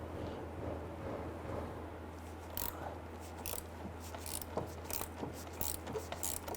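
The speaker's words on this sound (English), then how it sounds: "We're going to hold this while we loosen this nut." Mechanical ratcheting clicks from a 13mm wrench loosening a nut on the shift cable controller of a 1994-2004 Ford Mustang 3.8L V6, in short bursts of close, quiet clicking over a low hum.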